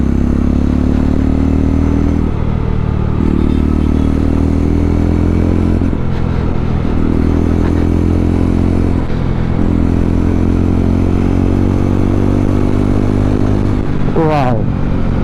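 A Jawa 350 motorcycle being ridden through the gears, its steady low thumping engine loud and close with wind rush, pitch rising and dropping at each shift.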